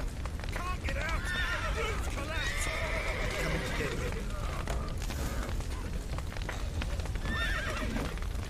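Horses in a video game whinny repeatedly and gallop with steady clip-clopping hooves, loud and continuous, while someone talks over them.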